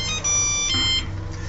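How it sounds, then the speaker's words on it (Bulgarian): A phone rings with a short electronic melodic tone that repeats in quick bright bursts, fairly loud and alone. "Момент, звънат."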